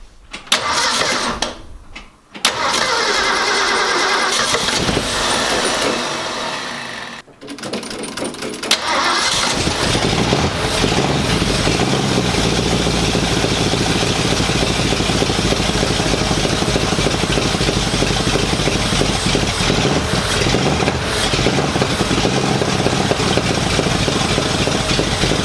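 A rebuilt car engine cranks with a few starter bursts, then catches and settles into a loud, steady idle that runs close and continuous to the end.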